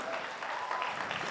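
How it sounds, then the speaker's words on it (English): Audience applause for a teen performer at a talent show, a moderate, fairly soft spread of clapping that stays even for the whole moment. "we must applaud her for coming up and witnessing to everybody"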